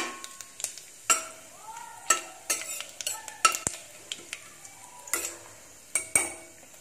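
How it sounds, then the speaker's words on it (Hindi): Whole cumin, bay leaf, star anise and cinnamon sizzle in hot oil with a soft hiss, broken by sharp metallic clinks and scrapes of a spoon stirring in the pan. "जीरा, तेजपात, स्टार और दालचीनी, इसको क्या करेंगे, हम तेल में डाल देते हैं"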